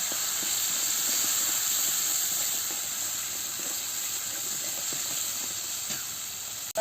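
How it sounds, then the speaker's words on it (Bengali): Poppy seed and melon seed paste being sautéed with cabbage in a pan: a steady, loud hissing sizzle with faint stirring ticks, continuous and close. "পোস্ত আর চার মগজ দিয়ে দিচ্ছি দিয়ে ভালো করে কষাচ্ছি"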